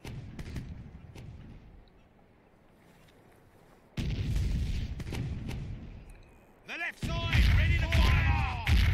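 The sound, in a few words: ship cannon fire in Sea Dogs video game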